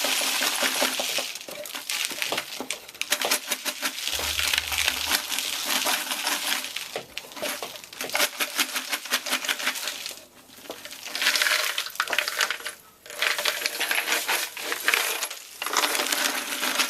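A box of .223 brass rifle cases being turned over and tumbled, producing a loud, dense metallic jingling and clattering that runs continuously for many seconds with brief lulls, close up and with no talking.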